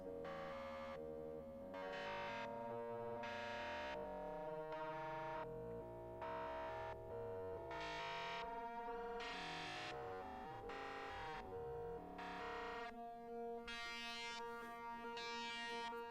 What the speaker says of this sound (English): you'll get some really nasty FM tones